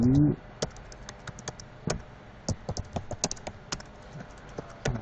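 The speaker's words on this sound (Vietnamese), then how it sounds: "gõ phím nhanh quá" Fast typing on a computer keyboard, a quick irregular run of sharp key clicks with brief pauses, close and fairly quiet against a soft room background.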